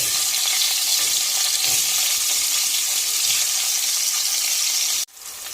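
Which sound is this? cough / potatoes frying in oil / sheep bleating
potatoes frying in oil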